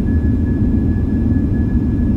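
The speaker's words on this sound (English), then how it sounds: "Reverse thrust, always stressing" A Boeing 737-900ER in Aerofly FS4 with reverse thrust roaring after landing. The low, loud engine rumble holds steady under a thin constant whine, and no one talks.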